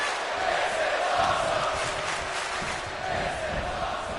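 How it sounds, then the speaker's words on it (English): Arena crowd in the WWE 2K25 wrestling video game roars steadily and loudly throughout, a dense wash of cheering with no pauses or distinct voices standing out. "Taking a moment to get pumped off of this crowd's incredible energy"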